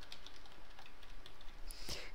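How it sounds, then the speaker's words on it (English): Rapid computer keyboard key presses, a flurry of clicky taps and mashed buttons at close range, fairly loud and continuous with no talking over them. "I'm, like, pressing every button on my keyboard."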